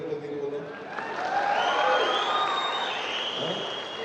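An audience applauds at a chief minister's political speech in Chikkaballapur, with a steady wash of clapping that swells slightly in the middle and holds to the end.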